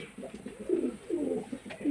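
Pigeons just let out of their coop to bathe give soft, low cooing calls nearby in two short bursts, with faint background noise around them.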